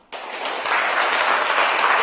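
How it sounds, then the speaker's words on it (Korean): Audience applause after a lecture in Los Angeles, a dense wash of clapping that starts abruptly and swells slightly louder, sustained steadily through to the end with no voices. "박수 한 번 더 받으려고"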